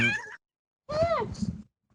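A house cat meows twice nearby, a short cry followed after a pause by a longer, drawn-out meow with a breathy tail.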